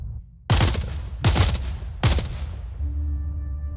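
Three loud, evenly spaced assault rifle shots ring out close by in the space game SpaceBourne 2, each burst decaying before the next, followed by a steady low hum.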